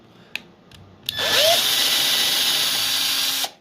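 A power drill bores a small pilot hole into wood for a screw, about 1/4 inch deep, making one steady whirring burst of roughly two and a half seconds after a couple of faint clicks.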